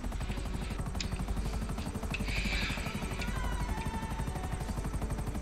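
A helicopter in GTA Online, its rotor chopping fast and steady with a continuous engine whine, loud and close the whole time, with brief faint game sounds over it and no talking.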